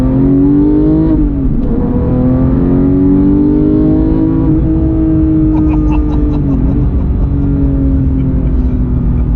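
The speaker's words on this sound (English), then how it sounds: "So now when you shift, it's gonna, as long as you shift quickly, it's gonna automatically rev match for you." A 2018 Porsche 911 GT3 with a manual gearbox revs loudly from inside the cabin, its engine note climbing and dipping through shifts with automatic rev-matching blips, constant and close.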